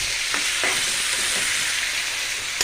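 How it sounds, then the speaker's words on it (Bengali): Beans, potato and tomato cook in a pan for a curry, giving a continuous loud sizzle with occasional soft stirring scrapes, up close and free of talk. "এখানে একটা তরকারি বসাই দিচ্ছি, সিম আলু তারপর টমেটো দিয়ে এখানে একটা তরকারি রান্না করবো আমি"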